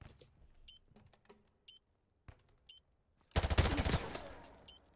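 Call of Duty Remastered gunfire: sparse distant single shots early on, then a sudden loud close burst of rapid automatic fire that fades out, with no talking.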